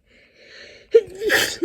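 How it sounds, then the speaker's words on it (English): A single sharp human sneeze bursts out after a brief quiet inhale, close and loud, followed by a short breathy tail. "before my sneeze interrupted me"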